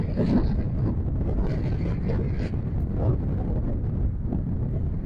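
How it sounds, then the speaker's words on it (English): Strong gusts of about 40 miles an hour buffet the microphone beside a 2024 Toyota Crown Platinum Hybrid Max, producing continuous loud low rumbling wind noise with faint speech underneath. "It is very windy today. We got gusts about 40 miles an hour today."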